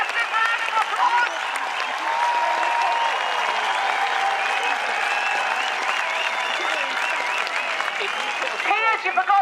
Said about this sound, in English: Let's give it a massive round of applause.